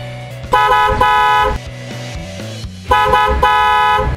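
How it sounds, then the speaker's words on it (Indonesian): An aftermarket Superior Horn fitted to a Hyundai Creta honks loudly and close in two pairs of short blasts separated by a pause, with a low rumbling hum between the honks. "Ini dia setelah kita pasangin Superior Horn dari Oto"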